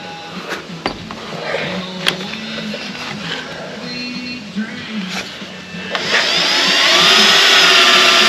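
Power drill boring through rusted outer rocker panel sheet metal on a 2002 Ford F350, a steady whine under light talk, rising to a louder, harsher grind near the end.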